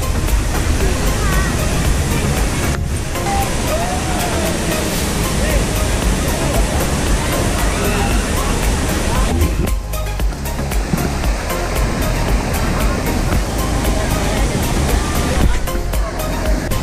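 Secret Falls waterfall roars loud and close as a dense, steady wash of falling water that fills the scene. The roar briefly dips a couple of times, and voices may be faintly mixed in.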